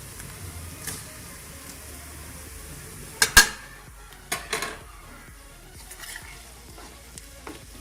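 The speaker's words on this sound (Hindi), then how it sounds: "ये ऐड करने के बाद आपने इसको थोड़ी सी देर फ्राई करना है" A quiet, low sizzle of garlic-ginger and green chili paste frying in a pan, broken by a few sharp scrapes and clinks from stirring.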